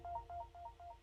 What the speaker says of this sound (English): let me check my text message